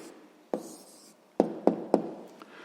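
A pen writes an answer on paper by hand. One faint scratch comes first, then a few distinct taps and strokes land close together near the end, in a quiet room with no voices.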